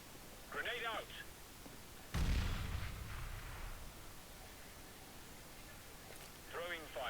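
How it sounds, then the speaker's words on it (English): A grenade going off in a tactical shooter game: a sudden low boom with a rumbling, fading tail, set between short bursts of clipped game radio voice chatter. "Grenade out."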